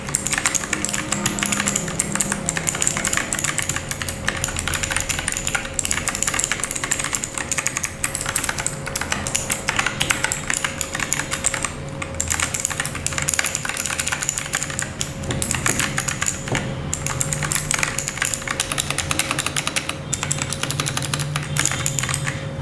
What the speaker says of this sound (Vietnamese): Mình sẽ thử bấm một số nút cho các bạn coi nhé.